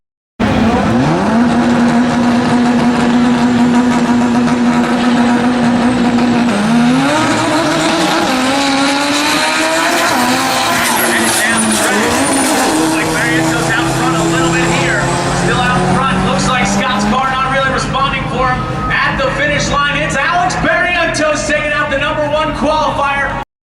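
Drag race cars in the finals at N.C. Dragway roar loudly and continuously, engines revving and rising in pitch as they run, with an announcer talking over the noise throughout.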